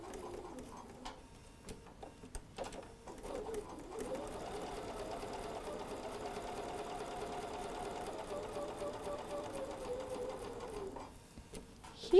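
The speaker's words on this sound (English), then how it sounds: "let's sew on that line" Close by, a sewing machine runs a steady whirring stitch along a quilt block seam for several seconds, starting and stopping with short bursts, amid faint room sounds.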